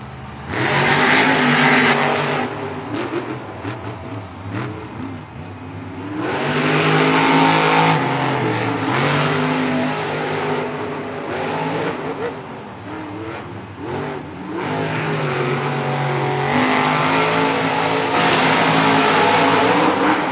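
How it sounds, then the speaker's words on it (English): Powerful monster truck engines roar and rev loudly in repeated surges at a stadium event, with a crowd's din beneath and a voice talking over the noise now and then. "You hear those engines revving"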